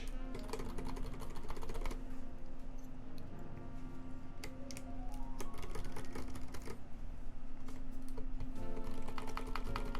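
Typing on a Space65 mechanical keyboard: rapid, continuous clicky keystrokes close up, fairly quiet, with no talking.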